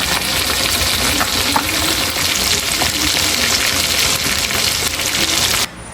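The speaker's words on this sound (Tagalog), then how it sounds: "Nagpiprito na po tayo ng isda." Dense, steady sizzling and crackling of fish frying in hot oil, loud and close, with no voices.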